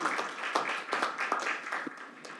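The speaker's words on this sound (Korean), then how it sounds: "큰 박수 부탁드리겠습니다." An audience at a tourism accessibility forum claps briefly and politely. The sharp, scattered claps blend into a short burst of applause that fades out.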